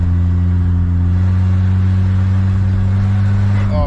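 A cheap turbo wagon's engine revving on stale, old gasoline, loud and close, with a steady droning idle-to-rev tone that rises sharply near the end.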